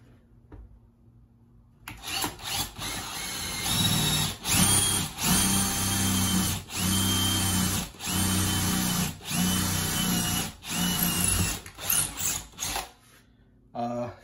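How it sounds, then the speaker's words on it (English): A power drill whines steadily as an old, dull bit bores into a wooden wall stud, its motor pulsing in repeated bursts with brief pauses between, loud and close. "this drill bit that I have is really old and dull"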